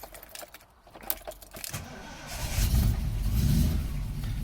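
A Triumph Stag being driven off after a speedometer cable install: a few clicks and a key-like jangle first, then the engine note rises into a low, loud rumble as the car pulls away.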